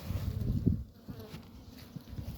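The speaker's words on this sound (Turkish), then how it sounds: "duman vurduğum için arılar biraz sert" Honeybees buzzing around an opened, smoked beehive, a low wavering hum that swells and fades, close but fairly quiet.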